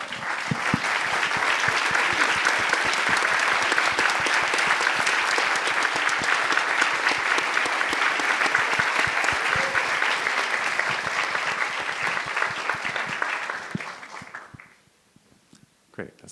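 A theater audience at a film screening Q&A gives long, sustained applause for the cast and crew, dense steady clapping that holds for about fourteen seconds before fading out.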